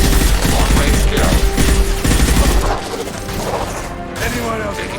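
Loud, continuous gunfire from the video game Mass Effect 2, with dense rattling bursts and impacts that ease to a lower, steadier volley partway through, mixed with game voices.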